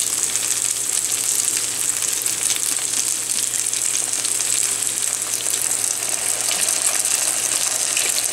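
Capsicum frying in a pan with red chilli sauce just added, giving a loud, continuous hiss and sizzle up close that holds steady throughout, with no voices.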